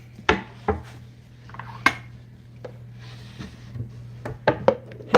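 A cutting board handled and set down on a home kitchen counter: a few sharp wooden knocks and clatters spread over several seconds, close by, over a steady low hum.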